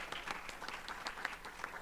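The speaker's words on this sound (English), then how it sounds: "let's give her a round of applause and thanks" A round of applause for a woman introduced as a session leader at a community care diversity event, with scattered claps from a modest audience at a fairly faint, steady level.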